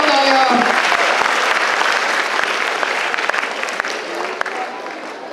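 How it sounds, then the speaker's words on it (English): Loud, dense round of applause from a quiz audience honoring sixteen participants, a continuous wash of many hands clapping close by that gradually thins and fades over several seconds, with some voices mixed in. "I think all the 16 deserve a big round of applause."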